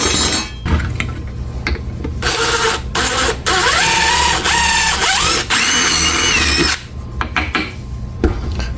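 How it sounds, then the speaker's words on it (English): A power drill bores a pilot hole while building a small canned ham camper for a Tonka toy truck, the motor whining loudly and steadily for several seconds with shifting pitch, then stopping, followed by a few short clicks and handling noises. "Got the pilot hole."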